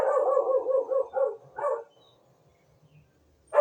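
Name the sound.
dogs barking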